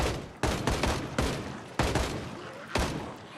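Bursts of gunfire in the zombie survival game Project Zomboid, several loud shots in quick uneven clusters, each with a sharp attack and a decaying tail, with no talk over them.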